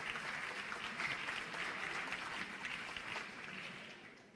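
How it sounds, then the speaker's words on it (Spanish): An assembly of Venezuelan lawmakers gives a loud round of applause for workers, a dense, continuous clatter of many hands that holds steady and then begins to fade near the end. "Para ellos pido un fuerte aplauso."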